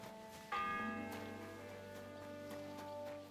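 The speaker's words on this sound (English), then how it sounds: "The sixth bell." A church bell in Kingdom Come: Deliverance II strikes once, loud and near, then rings on in a long, slowly fading metallic hum.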